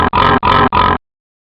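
A pig oinking sound effect: three loud, close grunting oinks in quick even succession, then silence.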